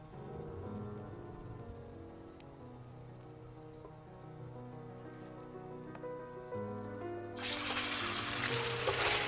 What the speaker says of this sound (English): The lamb is browned in a good slug of olive oil